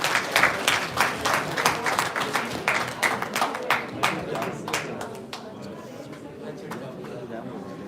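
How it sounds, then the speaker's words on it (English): An audience applauds a guest at a binocular vision workshop, a burst of dense clapping that thins out and fades after a few seconds. "A big round of applause for him."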